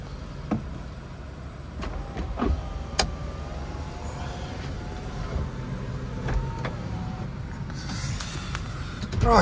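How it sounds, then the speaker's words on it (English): The power soft top of a Mini Convertible 1.5 Cooper Auto closes: a fairly quiet, steady electric motor whir with scattered mechanical clicks, ending in a louder final movement. "We'll put the roof back up now"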